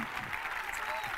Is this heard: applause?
yes